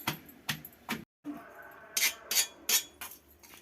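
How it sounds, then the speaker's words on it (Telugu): Stone pounding green chillies and gooseberries: a series of dull, gritty thuds in irregular bursts, close by, with a brief silent pause midway. "పచ్చిమిరకాయలు ఉసిరికాయలు ముక్కలు ఉప్పు పసుపు పచ్చిమిరకాయలు మెత్తగా తొక్కుకోవాలి"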